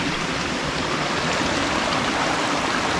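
Stream water flowing down from the El Zapotal reserve beside the Chiapas museum in Tuxtla Gutiérrez, a steady, close, full rushing and splashing that continues unbroken with no voices.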